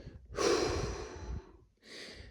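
Heavy, close breathing from a tired hiker on a rocky mountain trail, with one long labored exhale followed by a shorter breath after a brief pause. There is no talking.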